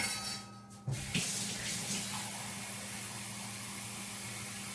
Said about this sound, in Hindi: तो इसके अंदर मैं थोड़ा और पानी ऐड करूँगी